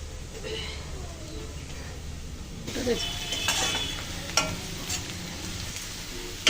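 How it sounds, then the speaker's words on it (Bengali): Onions frying in a pan until deep brown, like crisp fried onion, for a fish curry with plantain; a steady low sizzle with a few stirring clinks, and brief talk heard partway through. "পেঁয়াজগুলো আমি কিন্তু একদম বেরেস্তার মতো বাদামি করে ভেজে নিলাম"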